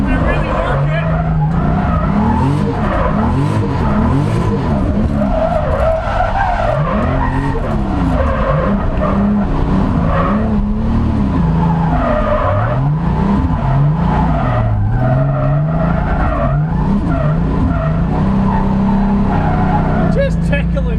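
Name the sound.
BMW E36 with 2JZ-GE engine drifting, tires skidding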